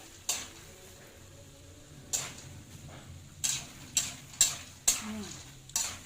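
A spoon scrapes and knocks in a pan of peanuts and garlic frying for crunchy adobong mani, with about seven separate sharp clinks at uneven intervals over a faint low sizzle.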